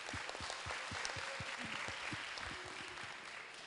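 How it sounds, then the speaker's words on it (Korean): At a youth policy debate forum, a modest audience applauds with individual claps distinct and fairly quiet. The applause is sustained for several seconds in a large room. "큰 박수 부탁드립니다."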